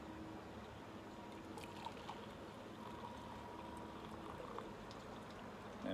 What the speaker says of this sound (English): you can just pour directly through the filter here